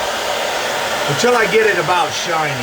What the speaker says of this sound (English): I'm going to run the hairdryer over it on low heat